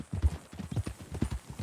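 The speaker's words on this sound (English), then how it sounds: "That a new horse?" Hooves of a horse clip-clop in an uneven walking rhythm in Red Dead Redemption 2, close and fairly quiet, with faint game dialogue in the background.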